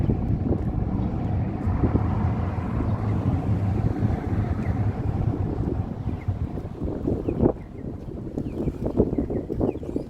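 A steady breeze blows outdoors in downtown Calgary, a broad, rumbling wind noise that buffets the microphone without pause for the whole stretch.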